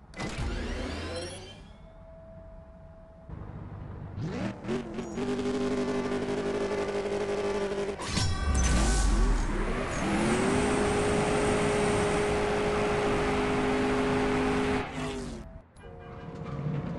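A Dodge Charger Daytona in the CSR Racing 2 video game revs hard, its engine note climbing and holding at a loud, sustained roar through gear changes, with whining tones rising over the steady drone and no talk.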